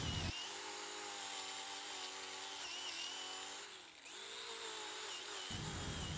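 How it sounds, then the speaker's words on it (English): An angle grinder fitted with a wire wheel disc scours a black walnut slab with a continuous high whine. The whine dips briefly midway and stops near the end. "I was able to use my angle grinder with a wire wheel disc on it"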